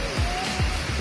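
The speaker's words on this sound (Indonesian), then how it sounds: "kita sudah sampai di air terjun Girimani." The Girimanik waterfall in Slogohimo, Wonogiri rushes as a continuous broad roar of falling water, steady and fairly close, with low rumbling pulses underneath.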